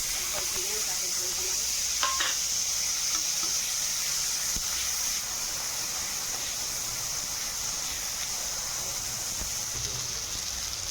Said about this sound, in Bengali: এবার পেঁয়াজ আর আলু একসঙ্গে ভেজে নেবো